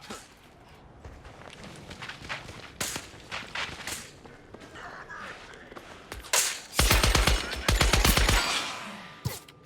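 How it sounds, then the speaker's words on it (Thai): Gunfire in the battle royale game Scavengers: scattered single shots and short bursts early on, then a loud, rapid automatic burst of closely spaced shots near the end, with footsteps and movement between volleys. "โอ้โหกระสุนจากไหนเนี่ยนัวไปหมดเลย"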